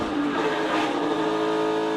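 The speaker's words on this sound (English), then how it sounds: "Oh, car's got loose. Spun some tires." A race car at the Daytona 500 spins its tires, producing a loud, continuous roaring engine and screeching tire noise that swells briefly and stays close and intense for the whole moment.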